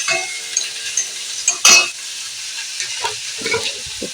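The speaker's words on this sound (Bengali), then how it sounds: "শাকটাকে আমি বেশ কিছুক্ষণ ভালো করে আমি নাড়তে থাকবো" Drumstick greens with coconut and dried red chilli fry in hot oil in a kadai, giving a close hiss and sizzle with a few louder stirring scrapes.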